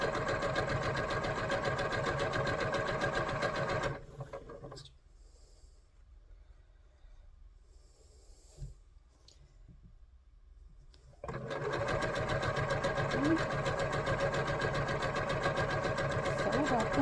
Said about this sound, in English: And then you just sew it down using your 1/4-inch seam allowance, just like always.